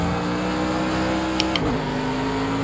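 A Formula 1 car in the racing game Project Cars 2 holds a loud, constant high-revving engine drone, interrupted once by a quick gear-shift click and dip in pitch.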